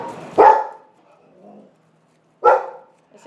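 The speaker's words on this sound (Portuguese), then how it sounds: "Essa é a Fifi, ela não para de latir" A small pet dog barks twice, sharp and close, with a quiet pause between the barks.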